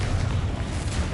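A Confringo spell blast in Hogwarts Legacy lands as a short, deep rumbling boom, a dense low roar that sustains through the whole second without a sharp attack.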